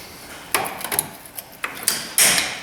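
Sharp metallic clicks and taps of a pry bar working a small brake spring off a Dodge Dakota front caliper, several close irregular knocks ending in a louder clank as the spring snaps free.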